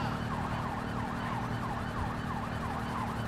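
Police car sirens wail in a GTA V police mod, several overlapping sweeping tones looping steadily over a constant low engine rumble, loud and continuous throughout.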